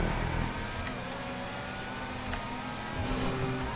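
A car engine hums and revs in the racing game GTA 5 Online, a steady mid-pitched drone held under partial throttle with slight swells near the start and end, no talk over it.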